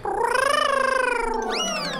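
A cat lets out one long, drawn-out wavering meow close by, sliding up in pitch near its end into a yowling cry, with no voices.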